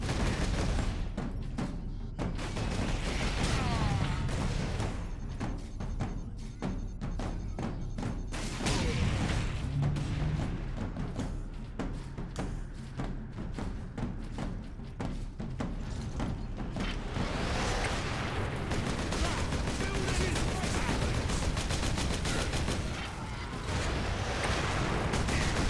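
Relentless gunfire and heavy booming explosions from combat in the Warhammer 40,000: Space Marine video game on hard mode, loud and dense throughout with no voices.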